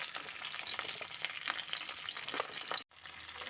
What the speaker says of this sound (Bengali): এখন আমি আলু ফুলকপিগুলো প্রথমে ভেজে নেব, একটু লাল লাল করে দিয়ে দিচ্ছি আলুর টুকরোগুলো।